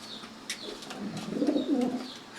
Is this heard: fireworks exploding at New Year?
no